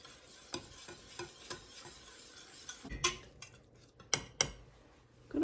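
A utensil stirs a potato flakes mixture in a bowl, scraping and clinking against the sides in uneven strokes, with several sharper knocks near the end.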